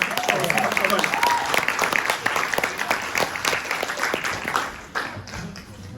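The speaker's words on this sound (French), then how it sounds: "Est-ce qu'on peut applaudir la régie de production, s'il vous plaît?" Church congregation at a worship service applauding the production crew, a dense burst of many hands clapping that stays steady and then tapers off, with a voice speaking over the start.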